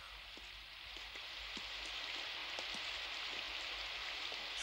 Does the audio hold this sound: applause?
no